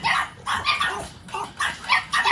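A French bulldog puppy at a kennel gives a run of small, sharp barks and yips in quick bursts with brief pauses between, close by and fairly clear.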